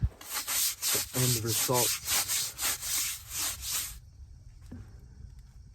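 Steady back-and-forth scrubbing of a brush against a car wheel rim caked with years of brake dust, about a dozen close rhythmic strokes that stop abruptly, followed by a brief spoken phrase.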